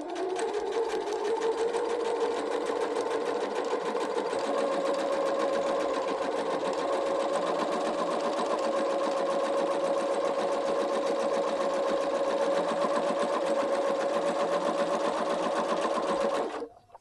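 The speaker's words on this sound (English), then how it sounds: "So my first tuck, I'm going to sew down a marked line, centering that line in place." Sewing machine stitching a pin tuck with a Hemline twin needle at maximum thread tension, a fast, even mechanical whirr running steadily for about sixteen seconds before stopping abruptly.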